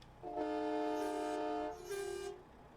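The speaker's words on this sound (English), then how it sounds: "Got the train horns going." Train horns fitted to a truck in a driving game blast twice, a long chord followed by a shorter second toot, loud and close with no talking.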